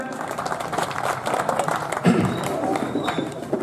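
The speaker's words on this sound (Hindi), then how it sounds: "आप एक बार जोरदार तालियां बजाइए" Applause from an audience at a Hindi comic poetry recital, a steady wash of clapping that holds through the clip and swells briefly near the middle, with some voices mixed in.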